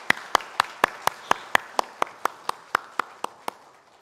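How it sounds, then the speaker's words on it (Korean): Congregation at a Sunday church service giving a round of encouraging applause, heard as slow, evenly spaced, rhythmic claps, about four per second, moderately loud and gradually softening. "우리 이분들 사역 잘 감당하시라고 한번 격려의 박수 보내주시기 바랍니다"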